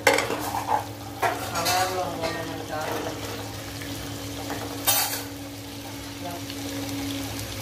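Potato and fenugreek sabzi stirred in a pan, with a spoon scraping and clinking against the metal over a steady low sizzle and a constant hum, plus a few louder scrapes and knocks.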